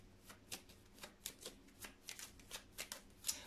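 Tarot cards are shuffled by hand for a general reading, giving a quiet, close series of about a dozen soft riffling swishes in a steady rhythm.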